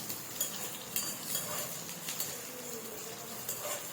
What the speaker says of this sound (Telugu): ఆనియన్స్ వేసుకున్న తర్వాత ఒకసారి కలపెట్టుకోవాలి